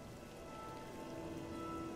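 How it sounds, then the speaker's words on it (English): Steady rain falling in The Elder Scrolls game, a constant soft hiss of drops on surfaces with a faint low hum and no voices. "I hear rain, but I don't see no rain."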